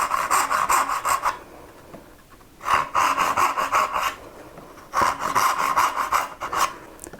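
A hand saw rasps back and forth through wood in a dovetail kerf held by a Barron magnetic guide, three bursts of steady rhythmic strokes separated by short pauses, close and loud.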